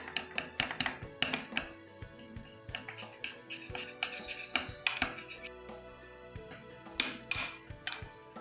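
A spoon clinks and scrapes against a bowl while Colgate toothpaste is mixed with Vaseline, with irregular close taps and knocks throughout and no talking.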